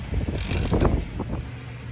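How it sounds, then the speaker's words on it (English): A puller works the bottom pulley off the front of a 1949 Farmall H tractor, giving a loud, close run of metallic mechanical grinding and ratcheting with a few sharp bright scrapes, and no voices. "Then we'll get a puller on here and see if we can get this bottom pulley off."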